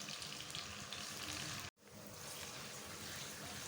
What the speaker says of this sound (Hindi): अच्छी तरह से इनको फ्राई करें